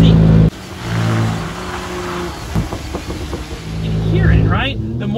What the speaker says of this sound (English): The more you steer, the louder it gets because the car is working hard.